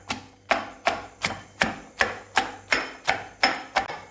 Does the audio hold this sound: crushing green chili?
yes